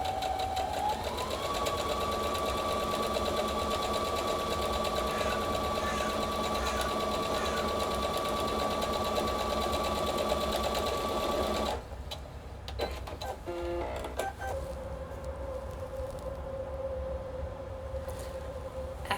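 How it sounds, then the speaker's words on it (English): A sewing machine runs steadily as it stitches the bottom seams of trouser pockets, its motor holding an even whirring drone for about twelve seconds before it stops briefly and restarts at a lower, quieter pitch. "so sew that also, so that you will make the bottom of your pockets"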